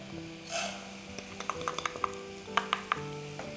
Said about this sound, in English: So you saute the rice,